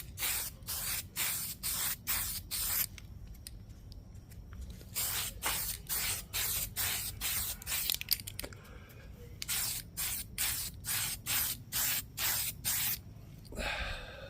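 A spray can applies a coat of paint onto a carbon fiber body part in quick repeated bursts, each short hiss separated by brief pauses, close and fairly loud.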